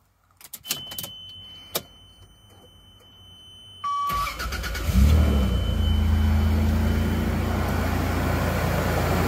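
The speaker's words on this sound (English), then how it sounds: "Let's give her a crank, make sure everything is working correctly and we didn't miss anything." A 1997 Toyota Land Cruiser with the 1FZ-FE inline-six is cranked and fires up around four seconds in, then settles into a steady, loud idle after some clicks and a whining starter.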